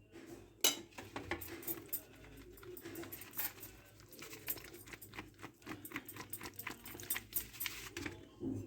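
Shrimp are shaken and tossed in flour, producing faint, irregular rustling and light clattering bursts up close, with no talking.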